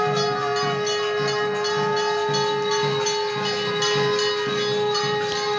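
A steady sustained blowing tone with rich harmonics, fairly loud, accompanied by rhythmic pulsing percussion or bells beneath it.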